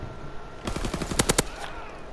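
A rapid burst of automatic gunfire from a video game gun game match, a fast rattling string of close, sharp shots lasting under a second and ending in three louder cracks.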